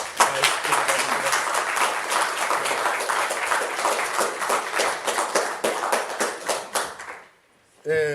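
A seminar audience at a youth dialogue on AI gives a round of applause for a session host, dense loud clapping that carries for about seven seconds, then cuts off abruptly before a voice begins.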